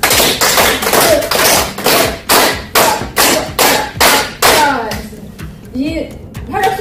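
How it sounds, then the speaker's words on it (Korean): A group claps together in a health-clapping exercise, palms struck flat against each other in a steady run of about a dozen loud, evenly spaced claps, then fading into softer scattered taps at the end. "아, 그럼 다 같이 박수 쳐볼까요?"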